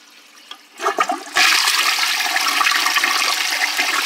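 A toilet with its big front jet plugged flushes slowly: a faint trickle, then a rising gurgle and a loud, steady rush of water that keeps pouring for several seconds.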